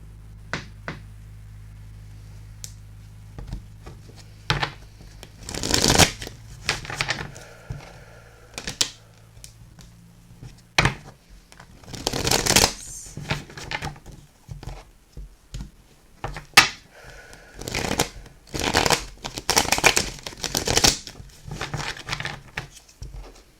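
Tarot cards riffle and shuffle in repeated bursts of crisp paper flutter and snapping, irregular and close, separated by quiet pauses.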